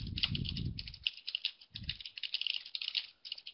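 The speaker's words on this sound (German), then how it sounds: "wir hören dich intensiv tippen" Rapid keyboard typing during an online webinar call, steady clatter of keystrokes picked up faintly through a microphone, with low murmuring sounds briefly underneath.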